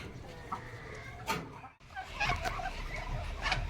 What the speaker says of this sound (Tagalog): Ipapakita ko sa inyo yung isang Rhode Island na gagamitin nating rooster.